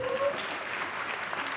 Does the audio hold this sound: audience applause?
yes